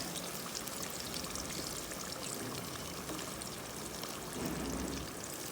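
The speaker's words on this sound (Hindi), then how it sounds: "और इसके साथ डालूंगी मैं ये टमाटर की प्यूरी।" Tomato puree pouring into a pan with ginger, garlic and green chilies, a continuous close liquid rush and sizzle that holds steady and swells slightly near the end, with no voices.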